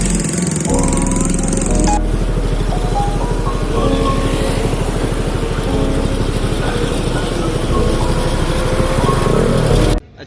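A motorbike engine runs loud and close with a steady throbbing drone throughout, its pitch shifting slightly as it idles and pulls away.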